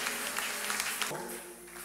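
Church congregation applauding during a French-language service, a steady dense wash of clapping at moderate level with some background tonal sound, likely music, underneath.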